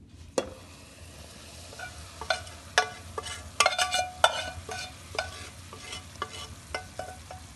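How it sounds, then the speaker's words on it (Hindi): Sugar syrup is poured onto golden-roasted semolina for halwa in a pan over a low flame, then stirred. A low sizzle runs underneath sharp, irregular scraping taps, all fairly faint and close. "और अब इसमें शीरा डालने लगी हूँ।"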